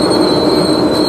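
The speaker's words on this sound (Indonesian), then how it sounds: "Ini dia kereta api Probolinggonya berhenti." A Probolinggo passenger train rolls slowly into a station in Indonesia with a steady high-pitched squeal of braking wheels over a loud, continuous rumble.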